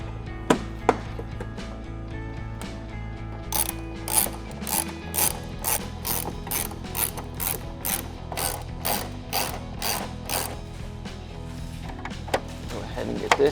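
A hand ratchet clicks in quick, regular bursts while bolts go back into a Toyota 4Runner bumper, close and crisp, with a few clunks of parts before it starts.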